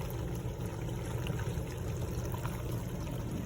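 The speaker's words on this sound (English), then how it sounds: "you see it kind of bubbling against the flap that's raised, which causes it to drip into the foam" Water bubbling and trickling out past a raised door flap on a leaking Samsung DW80F800UWS dishwasher, a steady low gurgling wash with no pauses, fairly quiet and close.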